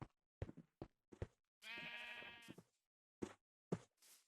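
A sheep in Minecraft on the Wii U gives a single clear bleat amid scattered soft clicks and footstep-like taps, quiet and with no talk.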